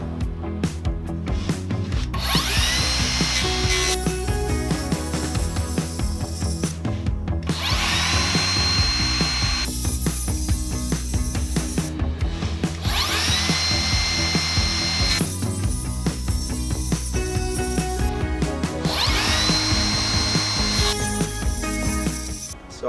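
A Makita multi-tool cuts out a cabinet part in a home workshop, a loud continuous buzzing grind with rhythmic surges in intensity roughly every five seconds, running without talk.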